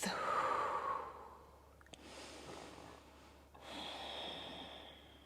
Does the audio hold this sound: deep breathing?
yes